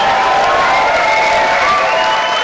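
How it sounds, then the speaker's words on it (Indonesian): Loud, steady roar of applause and crowd noise at an MMA semifinal event in Indonesia, continuous and dense, with tonal background sound running underneath throughout. "kita beri tepuk tangan yang meriah sekali lagi."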